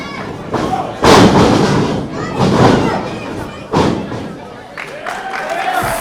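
A wrestler's shoulder tackle lands in a ring with several heavy slamming thuds in quick succession, loud and close over crowd noise and a commentator talking.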